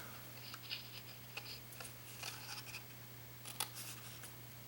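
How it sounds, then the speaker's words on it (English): Small scissors snip paper tabs repeatedly in short, irregular clicks, each cut crisp and close, with pauses between groups of snips over a faint steady hum. "I'm going to grab my smaller scissors. We're going to angle, cut all of these tabs."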